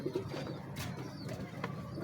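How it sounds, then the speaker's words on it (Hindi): A strong male pigeon cooing softly in a low throaty rumble, close by, with faint chirps and background noise around it. "ये भी चुम्मी वाला नर है, बड़ा तगड़ा कबूतर है।"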